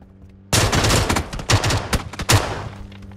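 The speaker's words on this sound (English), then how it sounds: "Getting shot." Rapid bursts of gunfire in the video game PUBG, loud and close, with several heavy overlapping volleys and sharp individual shots over about three seconds.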